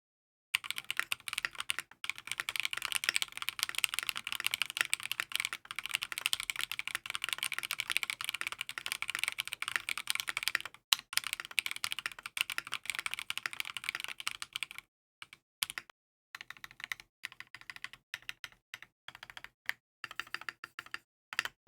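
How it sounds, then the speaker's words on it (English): Rapid, continuous typing on a stock metal mechanical keyboard, with crisp, close keystrokes in a steady stream that breaks into sparser bursts toward the end. "let me go ahead and show you how it sounds now before I make any of the modifications"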